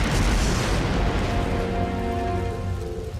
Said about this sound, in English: That seems like a mortar fire.